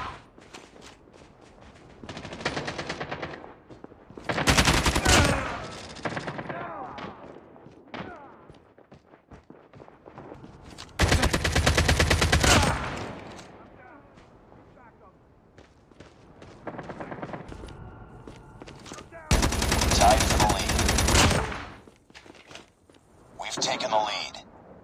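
Gunfire in Call of Duty Mobile: loud bursts of shots in several clusters separated by quieter stretches of footsteps and thuds, with game voice lines between.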